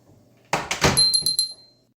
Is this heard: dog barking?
no